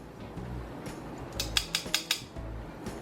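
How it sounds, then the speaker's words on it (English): Metal kitchen tongs clicking and clacking together several times in quick succession, close by and fairly quiet. "Get my tongs out here."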